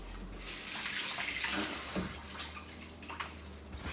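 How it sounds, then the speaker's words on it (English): Running tap water while hands are washed at a kitchen sink during pork loin preparation, a steady close splashing rush lasting throughout, with faint shifting splashes and a low hum underneath, no talking. "Go wash my hands."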